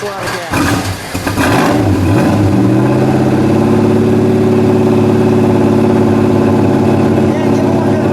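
The 426 Hemi V8 of a 1969 Dodge Charger cranks, catches and surges upward, then drops into a loud, lumpy idle that holds steady close by.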